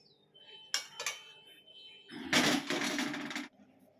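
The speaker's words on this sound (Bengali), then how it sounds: "তো চলো কড়াইটা ভালো করে পরিষ্কার করে নামিয়ে নিই" Metal scraping against a metal wok: two quick scrapes, then a longer harsh rasping stroke lasting about a second, close and fairly loud.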